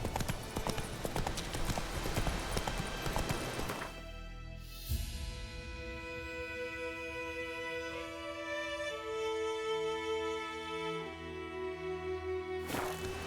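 Roach, a horse in The Witcher 3, gallops with rapid clip-clopping hooves for about four seconds, then the hoofbeats give way to steady sustained game music that runs to the end.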